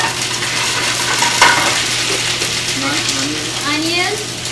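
Garlic and ginger added to cumin seeds in hot olive oil, sizzling and simmering steadily in a pan for chicken tikka masala, with a constant hum and faint clinks of stirring beneath.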